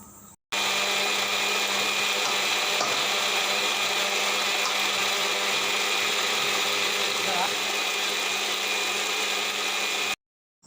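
A mixer grinder runs continuously, churning milk cream with ice water into butter, with a loud, steady motor whine that starts abruptly and cuts off after about ten seconds.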